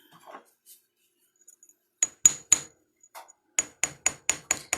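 A chasing hammer's ball peen strikes a fine silver chain link, texturing it: sharp metallic taps, a few spaced blows then a quicker run of about six ringing hits, close and clear with no talk.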